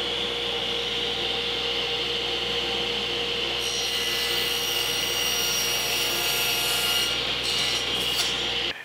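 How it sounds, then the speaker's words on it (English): A table saw trims the end of a wooden board in a woodshop, a loud steady whine running throughout with the pitch brightening as the blade bites the wood, then cutting off abruptly at the end. "run it through the table saw on one end and just kiss it and make sure that it's absolutely square"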